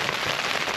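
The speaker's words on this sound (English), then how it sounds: "I'm hoping you'll be able to hear me over the rain clattering off the tent, the wind bashing it to bits" Heavy rain clattering on a wind-battered Naturehike Cloud Peak 2 tent during a wet, windy wild camp, a dense, close, continuous patter with no talk.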